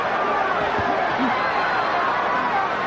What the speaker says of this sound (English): Crowd trying to chant Holyfield.